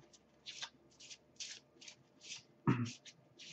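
Unsleeved black-backed Harry Potter board game cards being shuffled by hand: a run of about eight quick riffling bursts at a steady rhythm, close and fairly quiet, with one heavier thump near the end.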